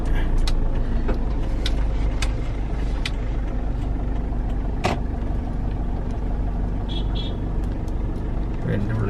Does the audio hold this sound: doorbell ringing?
no